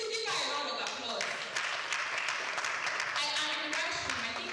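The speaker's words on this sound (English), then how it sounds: "Please give her a round of applause." An indoor audience applauds after a call for a round of applause at a live talk on effective managers, a broad, steady patter of clapping lasting several seconds, mixed with voices.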